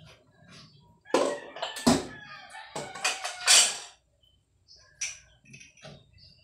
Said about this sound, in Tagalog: may huni ng ibon dito